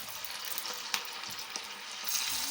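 Cauliflower pieces for gobi 65 frying in hot oil, giving a continuous bright sizzle with a few sharper pops and a louder surge near the end, close by and without talk.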